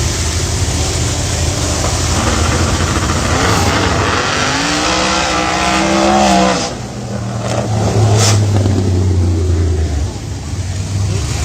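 Small tire drag race cars at a no prep race at Maple Grove, heard as a steady, loud roar of engines with a tone that sweeps up and back down midway, under faint background voices.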